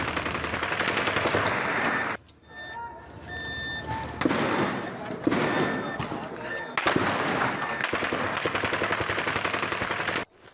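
Rapid bursts of gunfire crackle amid a noisy crowd of protesters in Pakistan, with shouting voices and chaotic background din, fairly loud throughout.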